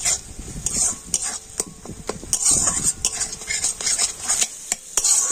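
Eggs scramble and fry in a little oil as a spatula chops and stirs them, producing quick repeated scraping taps against the pan over a steady sizzle, close and continuous, with no speech.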